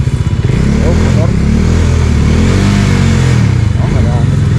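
Motorcycles roar loudly along a road close by, their engines droning and revving continuously as they pass, with the sound staying dense and unbroken throughout.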